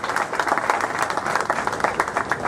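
A crowd claps throughout at a police station inauguration ceremony in Burhanpur attended by a DIG and an MP, a dense, even patter of many hands at moderate distance.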